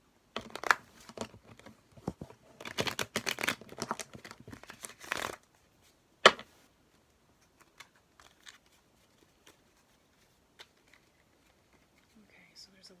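Tarot cards are shuffled up close in a short busy stretch of riffling, crinkling, papery flicks, then one sharp tap, followed by near silence with a few faint scattered clicks.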